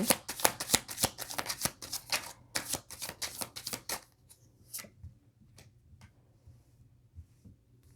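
Tarot cards shuffled rapidly in a dense, crisp riffle for about four seconds, then a few sparse soft snaps and slides as individual cards are turned over, close and alone with no voices.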